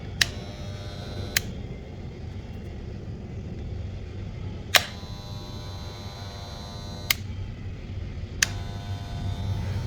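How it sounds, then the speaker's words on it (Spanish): A Zoofari electric dog hair clipper runs with a steady, fairly quiet motor hum, broken by a few sharp, isolated clicks. "La máquina es lo normal, no es súper silenciosa, pero tampoco es muy bulliciosa"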